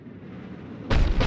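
A Cerberus cannon fires in Mass Effect 3, a sudden, heavy, booming blast after a low rumble, followed quickly by a second loud burst close behind it.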